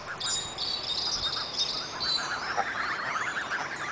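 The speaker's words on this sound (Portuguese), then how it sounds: "E ouça o barulho desses pássaros." Many birds chirp and trill steadily over a constant hiss of insects, a busy morning outdoor chorus with no talking, one bird sounding like a small hammer.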